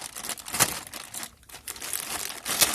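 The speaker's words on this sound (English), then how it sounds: "And we're going to cut the bags." Plastic grow bags of elm oyster mushroom mycelium are cut open up close, loud crinkling and rustling with a short pause midway, then more handling of the plastic.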